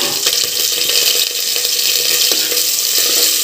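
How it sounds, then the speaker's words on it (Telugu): Onions and green chillies hiss and sizzle as they fry in hot oil for mutton curry, with a steady, close crackle and no voice. "ఉల్లిగడ్డ, పచ్చిమిరపకాయలు అయితే వేసి వేగనిద్దాం"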